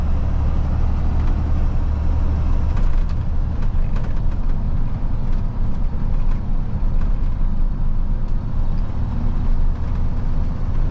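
A small truck drives along a narrow city road, its engine a steady, loud rumble with constant road and traffic noise throughout and no speech.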